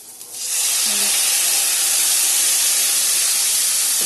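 Loud, steady hiss of steam rising from a cooking pot after a little water goes in, starting abruptly and holding constant near the mic for several seconds.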